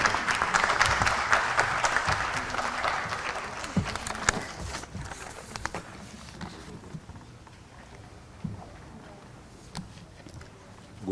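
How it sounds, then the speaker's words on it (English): Audience applause at the IAP NEOCON 2023 neonatal conference for a doctor taking the stage, broad sustained clapping that is loud at first and gradually thins and fades, with a few scattered claps near the end. "may I have the audience to give a big round of applause to Dr."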